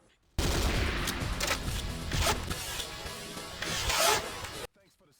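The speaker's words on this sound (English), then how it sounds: "The bog standard assault rifle is kinda bland and has that sound for reloading." A loud burst of mechanical clacks and metallic rattling as an assault rifle reloads in Command & Conquer: Renegade, a 2002 first-person shooter, dense and close, then stopping abruptly.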